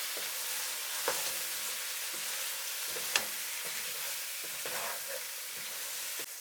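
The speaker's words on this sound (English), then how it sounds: "Stir for 1 minute." Spice powders such as cumin, sweet pepper and coriander fry in a pan for chicken biryani, giving a dense, even sizzle broken by several scraping stirs and a sharp utensil tap.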